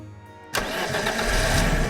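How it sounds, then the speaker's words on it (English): A car engine in the video game Tears of Themis catches with a sharp start, then roars steadily and loudly as the gas pedal is pressed down, swelling slightly and holding at full volume until the end. "Artem steps on the gas pedal. You hear the engine give a pleasant roar."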